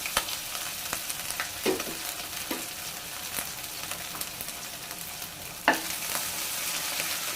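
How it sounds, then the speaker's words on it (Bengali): Chopped garlic and ginger frying in hot oil in a pot, a soft steady sizzle broken by a few sharp scraping clicks of a stirring utensil, the loudest near the end. "এখানে আমি একটু রসুন কুচি দিয়ে দিলাম, আর সাথে একটু আদা কুচিও দিয়ে দিলাম"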